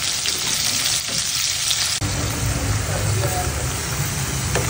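Dal being tempered in hot oil, a loud, continuous frying sizzle with stirring scrapes, steady throughout and a brief break near the middle.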